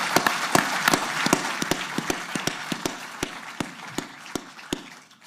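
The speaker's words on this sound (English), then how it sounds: "I'd just like to have a round of applause right there." Applause at a New York Jets press conference welcoming Aaron Rodgers: a steady wash of clapping from a room of people, punctuated by sharp, irregular clicks throughout.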